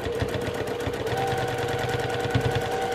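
A sewing machine stitches rapidly during free motion quilting, a close, fast, steady mechanical rattle running without pause.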